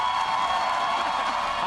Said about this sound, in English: Who's cheering on the hometown heroes of the Gladiators?